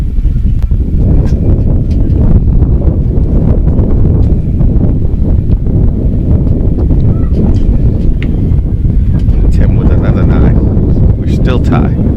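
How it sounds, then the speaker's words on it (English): Strong, continuous wind buffets the microphone outdoors at a shooting range during the 2014 U.S. Open, a loud, low rumble that persists throughout with scattered faint background sounds. "This wind, I think, is really starting to affect them"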